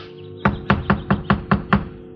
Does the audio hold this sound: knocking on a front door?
yes